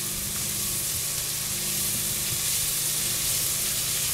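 Carrots sizzle steadily in a hot pan while being stirred for a black pepper glazed side dish, a dense continuous frying hiss close up with faint scraping, no talk.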